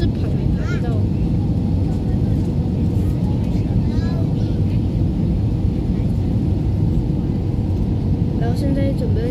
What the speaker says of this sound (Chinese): 然后现在准备要降落了